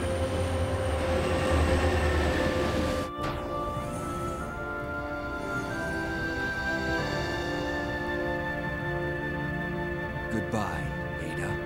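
A moving train in Resident Evil 2 rumbles with metallic rail clatter and a sharp bang, followed by sustained tonal hum and screeching over the rolling din, with voices speaking over it.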